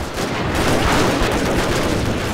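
Cannon and Gatling gun fire in the strategy game Total War: Shogun 2, a loud, dense burst of rapid gunshots and booming blasts that fills the whole short stretch without pause.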